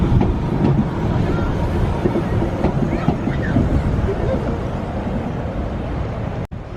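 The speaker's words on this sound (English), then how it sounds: "And then you've got this tram that does the Illuminations tour." A Blackpool Illuminations tour tram rolls past on the seafront, a steady loud rumble of wheels and motor with faint clatter and crowd noise mixed in throughout.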